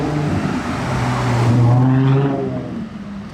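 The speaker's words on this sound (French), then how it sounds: "On entend toujours bien son V12 sonner." A Ferrari Monza SP2 hypercar with a V12 engine sweeps past on a Monaco street, a loud tonal engine note that swells to a peak midway and then fades as the car moves off, with no talking.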